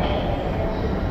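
A metro train in Chongqing rumbles steadily and fairly close, a dense, even roar of wheels and carriage noise with no voices over it.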